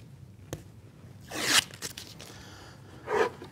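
Paper backing is peeled off a strip of double-sided tape being stuck to scrap plywood in a woodworking shop, making two short ripping pulls in an otherwise quiet room.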